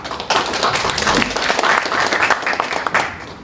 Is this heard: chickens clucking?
no